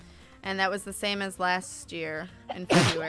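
Someone speaks briefly before one sharp, loud sneeze bursts out near the end.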